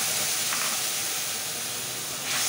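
Goat fat sizzles steadily in a cooking pan while aloo-potol-begun vegetables are being made, a continuous bright hiss with no talk over it.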